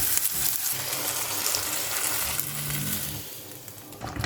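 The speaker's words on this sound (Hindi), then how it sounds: "तो ये मैंने तड़का डाल दिया है।" Loud hot-oil sizzling and crackling fills the clip as a tempering is poured into chicken makhni curry, a continuous frying hiss with some stirring movement underneath.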